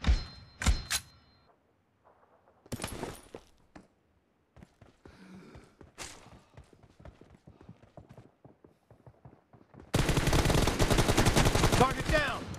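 Gunfire in the battle royale game PUBG Mobile: a couple of sharp shots near the start and scattered thuds, then a loud, dense burst of continuous noise in the final seconds, with faint speech at times.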